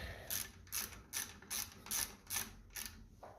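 A ratchet spanner tightens a bolt on the front axle of a 1955 Ferguson TED20 TVO tractor, giving about eight quick, evenly spaced bursts of close, crisp clicking with no talk.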